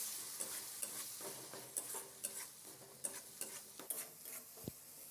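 Tomato and green chili paste frying with spices in a pan for a Bengali potato and fish curry, a spoon stirring and scraping in irregular clacks over a soft steady sizzle, close and fairly quiet.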